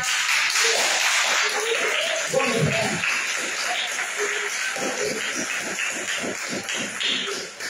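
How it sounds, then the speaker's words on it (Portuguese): A church congregation claps and shuffles for a few seconds, the applause moderate and somewhat uneven, with voices talking over it. "Dá uma salva de palmas para Jesus"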